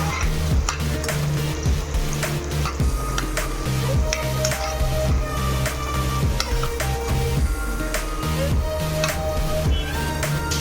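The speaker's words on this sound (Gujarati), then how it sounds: "હવે આપણે ધીમે તાપે હલાવી લઈશું" Chopped onions for paneer butter masala stirred in a pan over low heat: continuous sizzling with repeated scraping strokes, dense and steady throughout, with a tonal background running underneath.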